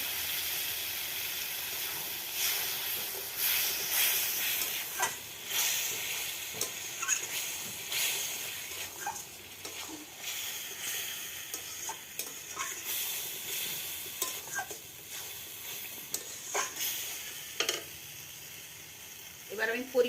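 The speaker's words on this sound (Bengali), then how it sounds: "এবার আমি অল্প করে জল দেবো" Steady frying sizzle with scattered stirring scrapes in a pan of Sonabogo fish curry as a little water goes in, with occasional sharper crackles and hiss throughout.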